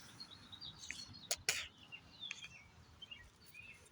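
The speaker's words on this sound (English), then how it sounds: "Listen to the birds." Birds chirp and tweet outdoors in short, scattered high calls, fairly faint against a steady low background hiss, with a brief louder burst in the middle.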